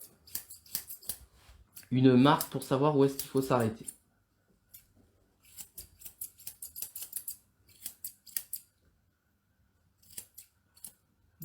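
Nikos Scorpion Blacksmith scissors trimming the paw hair of an American Cocker Spaniel, crisp snipping clicks in scattered bursts while someone speaks at the start.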